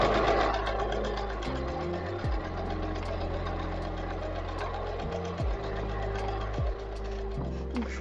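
A sewing machine stitches a jacket, its motor humming steadily in close, even runs that briefly stop and restart a few times, with no talking.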